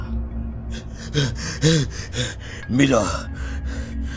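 A man in a Hindi horror audio drama pants out of breath after running, with heavy breathy gasps close to the ear in an uneven rhythm.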